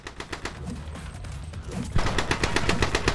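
Rapid bursts of automatic gunfire in the video game The Club, a steady rattling stream of shots that grows louder and denser about two seconds in, with no talking over it.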